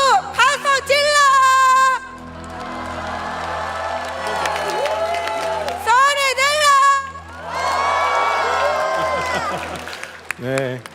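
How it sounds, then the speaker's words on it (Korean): Church congregation cheering and shouting, including children's voices, in loud bursts of whoops and calls with some clapping, separated by stretches of voices and a lingering crowd murmur. "모두 박수 질러!"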